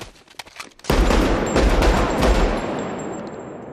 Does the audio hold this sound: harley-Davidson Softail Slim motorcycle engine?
no